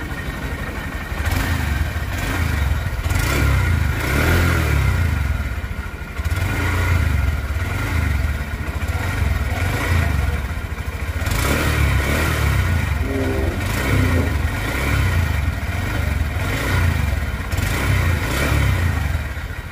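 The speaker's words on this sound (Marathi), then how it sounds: "बी एस सिक्स इंजिनचा आवाज कसा येतो गाडीचा ते आता बघूया" A Honda Shine 125 BS6 motorcycle engine runs steadily close by, its single-cylinder idle a loud low thrum with rhythmic pulsing and occasional light revving, continuing throughout without any speech.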